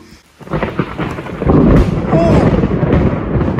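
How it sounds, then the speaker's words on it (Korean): Loud rolling thunder crashing over heavy rain at a large volcano in El Salvador, a rumbling boom that swells and sustains above a dense hiss of pouring rain close by. "천둥 번개가 무슨"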